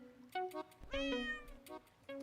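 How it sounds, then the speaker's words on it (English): A cat villager in Animal Crossing New Leaf gives a short series of synthesized meows, a brief chirp followed by a longer drawn-out mew, clear and alone. "Oh, don't meow at me like that."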